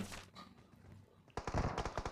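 A quiet, muffled stretch in PUBG Mobile gives way to a burst of rapid gunfire, sharp shots fired in quick succession with no talking.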